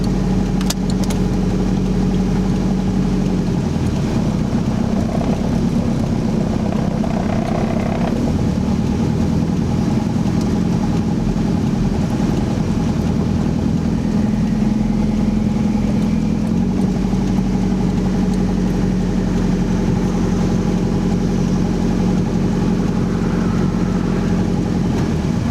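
A turbo-swapped 1991 Toyota MR2 runs at a steady, gentle drone while being driven, kept at low revs with only mild shifts in pitch, loud and continuous throughout with no talking.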